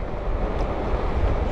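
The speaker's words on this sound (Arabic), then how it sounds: "اقدر ما تسمعش الكاميرا بزاف ولكن راه كاين الريح هنا" Strong wind blowing in from the sea along a seaside street buffets the microphone, making a steady, loud rumbling roar with no speech.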